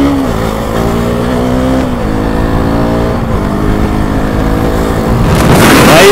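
KTM RC390 and Duke 200 motorcycles racing in front of a crowd, engines revving loud and steady with rising and falling pitch as they accelerate, ending in a sharp burst of high revs.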